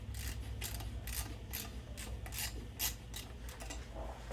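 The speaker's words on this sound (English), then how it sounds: "then you're simply going to tighten down this with a screwdriver here" A mounting bracket screw on an air quality sensor is tightened with a multi-bit screwdriver, giving a close, steady rasping and rubbing with repeated short scraping strokes over a low hum.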